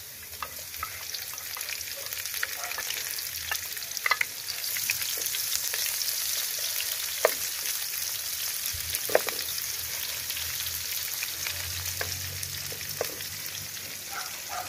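Onions sauté in a hot pan after garlic for a home catch-and-cook dish, giving a steady close sizzle with occasional clinks and scrapes of stirring throughout.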